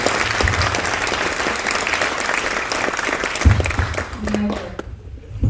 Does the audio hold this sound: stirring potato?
no